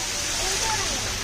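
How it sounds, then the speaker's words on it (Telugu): Steady broadband rush of a waterfall fills the scene continuously, loud and unbroken, with a faint voice briefly audible beneath the roar. "చూడండి ఫ్రెండ్స్, వాటర్ ఫాల్స్"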